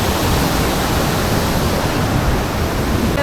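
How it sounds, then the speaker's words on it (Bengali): Waterfall at Changey near Kolakham, water plunging steadily in a loud, continuous broadband roar with no break and no voices over it. "ফলসে এই দেখো জলটা পড়ছে"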